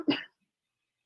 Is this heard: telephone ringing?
no